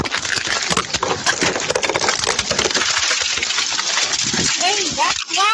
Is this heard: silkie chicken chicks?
no